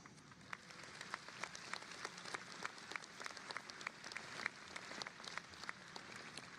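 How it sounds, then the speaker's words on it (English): Graduates applauding at a Johnson & Wales Charlotte commencement ceremony, scattered clapping that sounds thin and distant, spread across a large space. "Give yourselves a round of applause."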